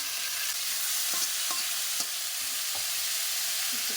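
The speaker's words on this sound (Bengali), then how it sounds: "আলুটা ভাজা ভাজা হয়ে গেছে" Potatoes fry in a pan with panch phoron and salt, a constant loud sizzle over which spoon scrapes and stirring clatter recur every half second or so.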